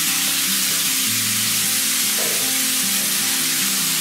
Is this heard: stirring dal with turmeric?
yes